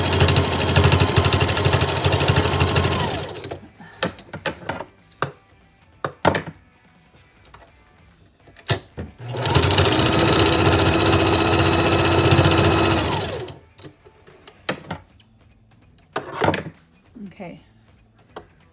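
A home sewing machine runs in two long bursts stitching handmade triple-layer surgical mask fabric, loud and close, with clunks, handling noises and a voice speaking between runs.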